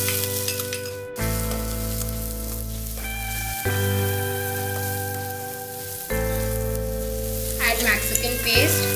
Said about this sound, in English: Saute the capsicum.